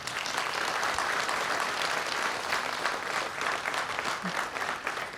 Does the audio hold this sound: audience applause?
yes